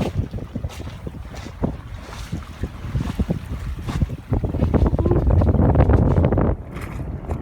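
Wind buffets the microphone as a Skipper 20 sailboat sails upwind through light choppy water in Florida Bay, with a rushing surge of hull and spray swelling louder midway.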